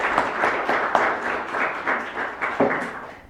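Brief applause from an audience after a sociology lecture, a moderate wash of clapping that fades toward the end, with no one speaking over it.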